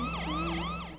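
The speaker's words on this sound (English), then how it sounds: "Oh, Chase, you don't need your sirens on for this." A wailing cartoon emergency siren from PAW Patrol sweeps up and down in pitch, loud and steady for the whole moment, with a low engine hum underneath.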